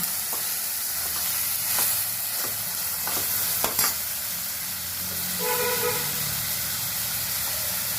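Garlic paste frying in a pan, a steady loud sizzle and hiss with occasional scrapes of a utensil stirring it, continuous throughout with no talking.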